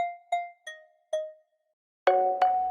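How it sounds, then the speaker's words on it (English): Bright synthetic bell tones from a hyperpop rage sound kit loop: four clean struck notes with decaying ring, a short pause, then two louder, fuller bell chords close together. "Here are the bells"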